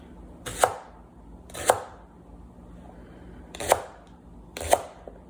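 Knife slicing leeks into half-inch rounds on a cutting board, four crisp chops spaced unevenly, close and clear with no talking.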